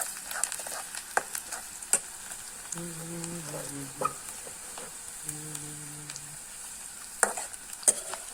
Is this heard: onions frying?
yes